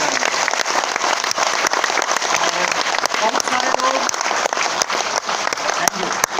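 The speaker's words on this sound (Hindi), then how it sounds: "डिसीजन आपका है, आपको ताली देना है।" Loud, sustained audience applause at an RCM business seminar in Bhilwara, Rajasthan, dense clapping filling the whole stretch with sharp individual claps standing out near the microphone.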